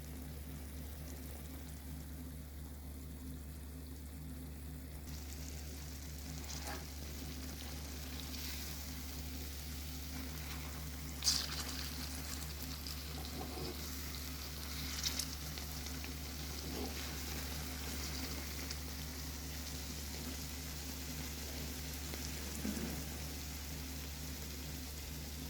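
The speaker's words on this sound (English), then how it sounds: "So we are just going to continue to fry our fritters" Ripe banana fritters fry in hot oil in a pan for a Jamaican-style recipe, a steady, faint sizzle over a constant low hum, with a few soft clicks and taps scattered through it and no talk.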